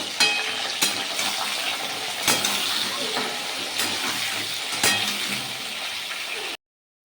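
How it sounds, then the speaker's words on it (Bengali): Pumpkin, ridge gourd and pointed gourd stirred and fried together in a wok, giving a steady close sizzle with a few sharp scraping clicks of stirring, ending abruptly in silence. "এখানে আছে কুমড়ো, ঝিঙে, পটল, সব সবজি কটাই একসঙ্গে আমি দিয়ে নাড়তে থাকবো"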